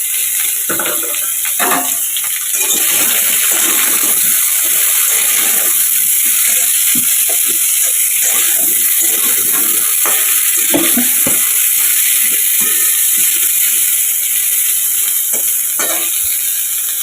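Pointed gourd pieces dropped into hot tempering oil in a home kitchen, frying with a loud, continuous sizzle and scattered stirring clatter, no one talking.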